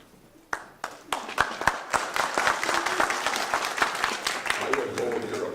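Clapping breaks out from the audience at a seniors housing association meeting, with a few sharp claps that quickly swell into steady applause, followed by a voice speaking near the end.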